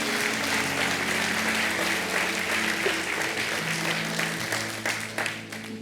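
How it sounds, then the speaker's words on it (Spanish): A church congregation applauds together during a sermon, steady dense clapping filling the whole stretch and thinning slightly toward the end, with faint voices mixed beneath. "Vamos a dar una ofrenda de palmas todos juntos en el nombre del Señor."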